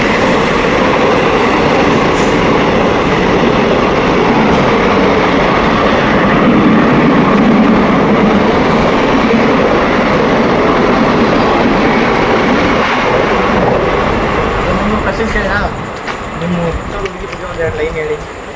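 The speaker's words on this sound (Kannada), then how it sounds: "ಬಂದು ನೋಡಿ ಟ್ರೈನ್ ಈ ಕಡೆ ಬರ್ತಾ" A train passes close by, a loud sustained rumble and rattle that fades slightly toward the end, with voices talking over it.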